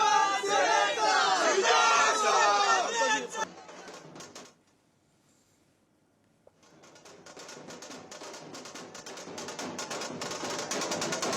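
MNS supporters celebrate beneath advocate Gunratna Sadavarte's building, a loud crowd shouting and cheering before dropping to near silence for a couple of seconds, then rising again with dense crackling bursts like firecrackers.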